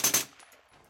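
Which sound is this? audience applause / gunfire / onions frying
gunfire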